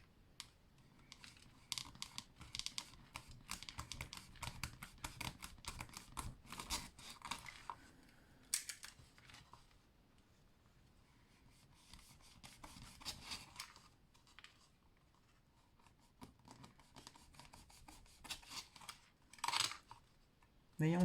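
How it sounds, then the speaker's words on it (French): Paper cut at an angle with scissors, a dense run of close snipping and crisp crunching for several seconds, then sparser cuts and a few louder snips near the end. "Donc on coupe en biais."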